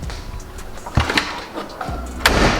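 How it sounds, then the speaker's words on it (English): A car's passenger side door is smacked shut, a few quick hollow thumps and one firmer slam at the end, all close and loud within a couple of seconds. "the door needs to be smacked to close"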